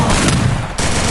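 A Thompson submachine gun in a video game fires a fast, loud rattling burst that cuts off abruptly, then resumes briefly.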